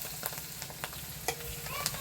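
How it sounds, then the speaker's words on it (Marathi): Curry leaves crackling in hot oil for tempering a spiced dish, a quiet continuous sizzle with a few small pops and spatters, no talking. "काय मस्त फोडणी बसल्या पहा"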